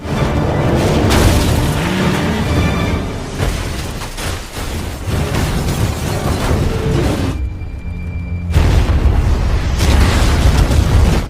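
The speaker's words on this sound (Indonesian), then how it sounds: "hingga membuat mobilnya Brian jatuh ke jurang dan meledak." A car plunging into a ravine and blowing up in a film scene, heard as a sustained roar of loud explosive booms and crashing bursts, with a brief lull before the blasts surge again.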